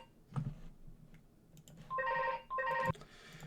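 A telephone rings in two electronic bursts of warbling tones, preceded by a few soft clicks and taps in a quiet room.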